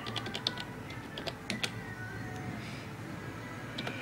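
Quiet, irregular keystrokes tap on a computer keyboard in short bursts, close and faint, with no one talking.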